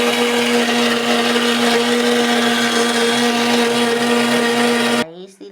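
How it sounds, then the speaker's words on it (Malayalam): A mixer grinder whirs loudly and steadily, grinding onion into a paste for egg masala with fennel, then cuts off abruptly near the end. "ഇതിന് നമുക്ക് അരച്ചെടുത്തുകൊണ്ട് വരാം"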